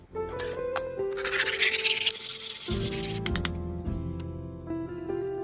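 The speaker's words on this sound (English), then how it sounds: "I'm going to sand the top and the bottom down" Metal trinket box being sanded on its top and bottom, giving scratchy rubbing strokes in quick uneven bursts with brief pauses, close and moderately loud.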